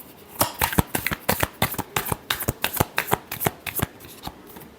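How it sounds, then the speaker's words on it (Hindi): Tarot cards being shuffled by hand for a reading, a brisk series of crisp papery slaps and riffles repeating in an irregular rhythm, close and fairly loud with no talking. "Last shuffle."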